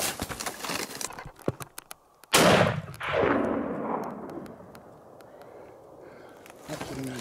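A single loud rifle shot rings out during a Coues deer hunt in the Mexican mountains, a sharp crack followed by a long rolling echo that fades over several seconds, with scattered clicks and brief talk before and after.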